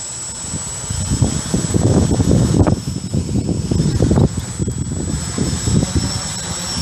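Motors of a home-built quadcopter drone whine and buzz up close as it lifts off a short way, with gusty wind noise rumbling and a high-pitched tone over the top.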